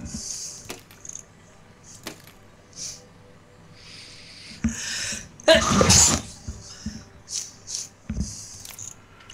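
A single loud, sharp sneeze bursts out midway through the stretch, close to the microphone, with quieter clicks, breaths and small mouth noises around it.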